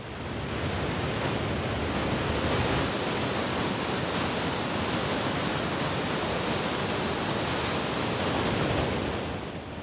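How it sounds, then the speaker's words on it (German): A roaring waterfall beside a walking path in Norway produces a dense, continuous broadband rush of falling water, loud and steady with no breaks, voices or other sounds. "Er geht an einem tosenden Wasserfall vorbei"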